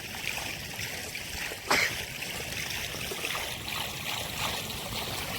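Continuous soft trickling and gurgling of running water along a ditch beside a vegetable plot, steady and close, with one brief splash partway through and no voices.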